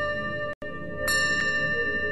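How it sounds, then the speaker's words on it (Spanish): A bell rings with a sustained metallic tone and shimmering overtones, briefly cut by a short gap, then struck again with brighter bursts as the ringing carries on. "escuchamos el sonido de la campana"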